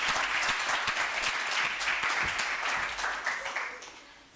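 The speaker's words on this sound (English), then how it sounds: "A round of applause for my school," Audience at a university research and innovation week event for a college of economic and management sciences claps steadily, dense applause that gradually fades toward the end.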